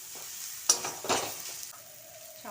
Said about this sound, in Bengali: নারকেল কুড়া দিয়ে দিলাম। দিয়ে মশলাটা ভালোভাবে কষিয়ে নেব।